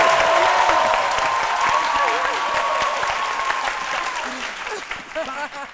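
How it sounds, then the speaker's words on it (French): Studio audience on a French midday TV show bursts into sustained, lively applause with some cheering, while voices talk over the clapping throughout. "Des applaudissements."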